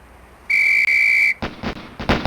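A sustained electronic referee-style whistle blast signals the drill in the Police Quest SWAT shooting-range game, holding steady for under a second before a quick run of sharp gunshot-like pops.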